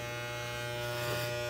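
An electric shaver buzzes steadily while shaving the side of a head, a close, continuous hum with a slight rise in tone near the end and no voices.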